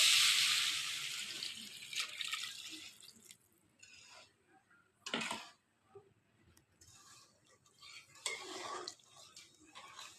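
Water is poured into a pan of fish curry, with katla fish, ridge gourd and potato in a fried spice paste, giving a few splashing, trickling bursts between quiet stretches of kitchen clatter.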